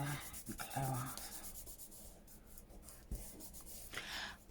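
A faint, close rubbing scrapes across paper to lift leftover glue from an Amazon-packaging junk journal page, with soft irregular strokes over a quiet background.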